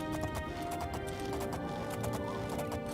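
Steady clip-clop of a horse walking in The Elder Scrolls IV: Oblivion, close and even, blended with background game music.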